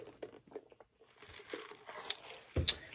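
Quiet crunching and chewing of Arby's curly fries, close to the mouth, with soft irregular bites and a sharper crunch near the end.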